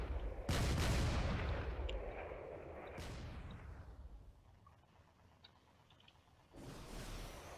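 Battleship cannons fire in the space game Drone Wars: three heavy, widely spaced booms, each followed by a long rumbling decay, with the first blast the loudest.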